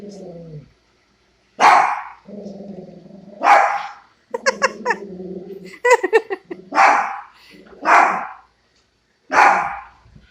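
A dachshund barks in loud, spaced bursts and short volleys while fighting a Roomba indoors, with a voice urging it on between barks.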